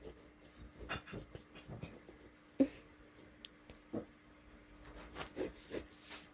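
A pen scratches out math working on a practice notepad in quick, intermittent strokes and taps, close but soft, with a quiet voice talking at times.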